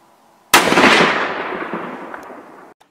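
A single loud rifle shot cracks close by during an axis deer hunt in the Texas Hill Country, followed by a rolling echo that fades over about two seconds in open terrain.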